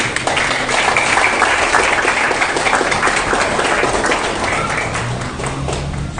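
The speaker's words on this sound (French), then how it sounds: "Nous vous demandons encore d'applaudir encore votre présence." A crowd in a university hall applauds steadily and loudly, a dense, even wash of clapping that holds without pause from start to finish.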